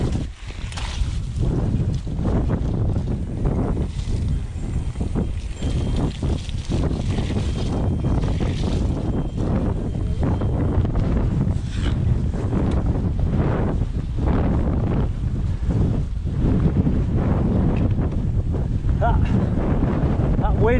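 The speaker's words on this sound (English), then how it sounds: "Wind's a bit in the faces now, isn't it?" Heavy wind buffeting the microphone during a group mountain bike ride on a Peak District trail in Derbyshire, a loud, constant roaring rush with gusty surges, riders talking faintly underneath.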